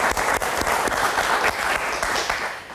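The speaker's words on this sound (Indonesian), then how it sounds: "kita kasih tepuk tangan dulu dong" Audience applause at a Jakarta talk-show taping, a dense steady wash of many hands clapping that holds loud and even for the whole stretch with no voices over it.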